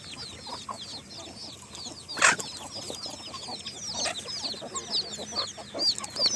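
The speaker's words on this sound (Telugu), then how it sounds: "కోళ్ళు చూడండి గాయ్స్, చిట్టి చిట్టి కోళ్ళు" Chickens and young chicks on a natural organic farm cluck and peep continuously at moderate distance, with a steady chorus of small calls and one brief louder sound near the middle.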